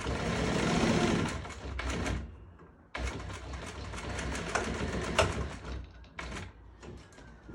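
A sewing machine stitches upholstery fabric for a bed, running in bursts of rapid whirring with short pauses between runs, close and fairly clear.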